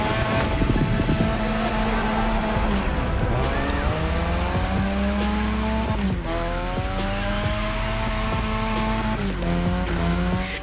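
Game car drifting on the drift track in The Crew Motorfest, Japan setting: a loud, continuous engine roar that revs up and down through gear shifts, with long screeching tire squeals layered over it throughout.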